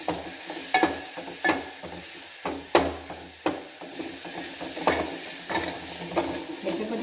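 Cumin, cloves and cinnamon crackle in hot oil for a fish curry, with a constant sizzle under repeated sharp clinks and scrapes of a spoon against the pan.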